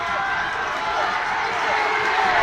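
Crowd noise at a schools rugby semi-final, a steady broad roar of spectators cheering throughout with a commentator talking over it.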